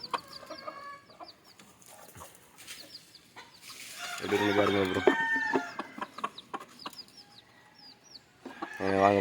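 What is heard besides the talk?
chickens clucking in a native chicken coop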